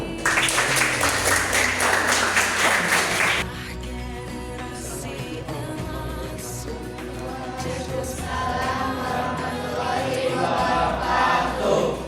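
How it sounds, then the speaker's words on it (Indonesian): A burst of lively clapping from a classroom or school audience during an interactive learning activity, loud and dense for a few seconds before cutting off abruptly, followed by quieter background sound. "Tepuk tangan."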